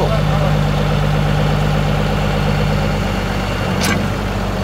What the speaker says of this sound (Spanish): Así que va a mover el tractor.